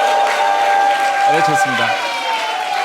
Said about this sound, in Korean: 격려의 함성과 함께 적극적인 응원 한번 부탁드리겠습니다.